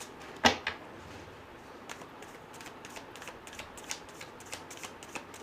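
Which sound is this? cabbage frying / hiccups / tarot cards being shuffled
tarot cards being shuffled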